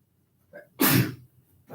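A single sharp human sneeze bursts out loud and close, preceded by a faint brief vocal sound and followed by a short voice at the end, in an otherwise quiet classroom.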